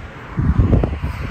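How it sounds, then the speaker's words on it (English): Gusty wind buffets a phone microphone held close outdoors at a windy car show, a low rumbling roar that swells and thickens in the middle of the short stretch. "the weather's crappy, so it's super windy, which is why I have the phone like super close to my face"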